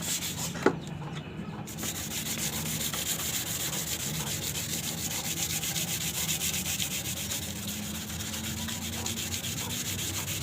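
A carbon kevlar part is sanded by hand with coarse sandpaper in continuous, even scraping strokes that hold close and steady after a single sharp click at the start.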